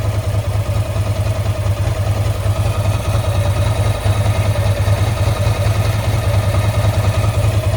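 A Ducati 907IE motorcycle engine idling steadily and loudly up close, an even throbbing rumble with faint mechanical clatter, no voices.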